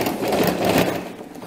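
A sewing machine runs a brief burst of stitching, sewing a topstitch on trousers, heard up close as a quick buzzing whir that fades at the end.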